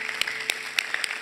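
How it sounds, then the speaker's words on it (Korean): Soft, steady clapping from a congregation at a young adults' Sunday worship service at Seoul Dream Church, with a few sharper individual claps standing out in a quick, even rhythm. "우리 하나님께 감사의 박수를 드리겠습니다"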